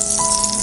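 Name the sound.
aloo puff patties frying in hot oil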